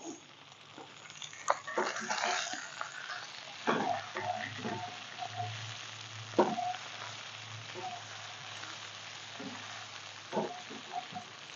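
Breakfast potatoes fry in a cast iron skillet, sizzling steadily with crackling spatters and occasional scraping stirs, close and moderately loud with no talk.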